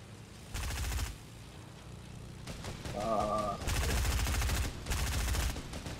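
Bursts of automatic gunfire from a driving-and-shooting video game, loud rapid volleys in several separate stretches, with a brief tonal in-game sound between them.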